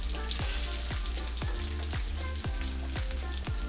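Parmesan-crumbed chicken pieces fry steadily in a pan of oil, a constant loud sizzle with crackling pops; several soft rhythmic knocks recur about every half second, close by, with no talking.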